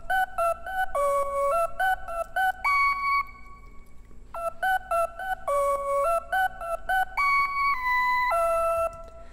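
Sampled 'ooh' vocal chops layered in two octaves play a choppy, rhythmic future bass melody of short bright stabs, with a gap partway through before the phrase repeats.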